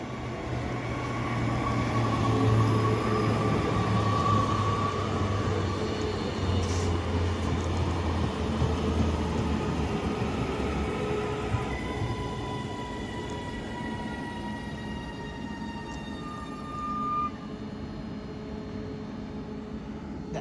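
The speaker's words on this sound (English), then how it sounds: "Next in we have the Liverpool Lime Street service from Manchester Airport" A Class 331 electric train on the Manchester Airport to Liverpool Lime Street service passes at Heald Green station, a broad, steady rumble of wheels and motors with faint tonal whines, gradually easing off over twenty seconds.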